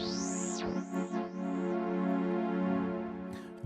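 A synthesized tone through a frequency shifter set to amplitude modulation, with sweeping, warbling pitch glides and a steady buzzy harmonic drone, heard alone with no talking.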